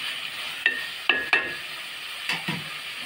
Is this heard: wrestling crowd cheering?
no